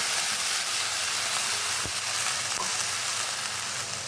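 Ground spice paste tipped into fried onions for an egg and cauliflower curry, giving a loud steady sizzle and hiss throughout, close up with no talk.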